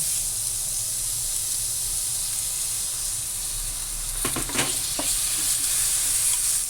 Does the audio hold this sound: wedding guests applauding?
no